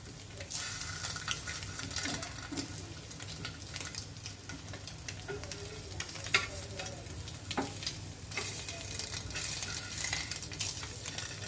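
An egg frying on a tawa over low heat for masala egg fry, a continuous crackling sizzle with scattered spatula scrapes and light metallic taps, close and steady.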